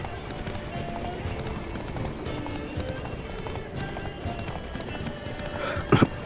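Roach the horse gallops in The Witcher 3, steady clip-clopping hoofbeats running continuously beneath busy game ambience, with a brief louder sound near the end.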